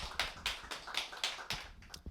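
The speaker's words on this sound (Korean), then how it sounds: "큰 박수로 맞이해 주세요." Audience members at a church symposium clap to welcome a speaker, giving faint, evenly spaced claps in a quick regular rhythm rather than a full roar.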